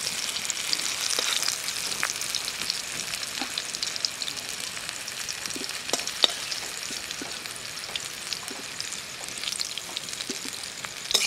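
Bitter gourd frying in hot oil gives a steady, close sizzle, with a few faint scraping stir clicks over about eleven seconds and no talking.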